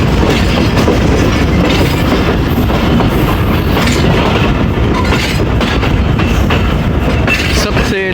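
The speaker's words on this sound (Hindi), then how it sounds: "अब कराची एक्सप्रेस अप्रोच बना रही है जी साहिवाल रेलवे स्टेशन पे।" The Karachi Express rolls loudly into Sahiwal railway station, a steady, close roar of wheels clattering on rails for the whole stretch, with some voices blended underneath.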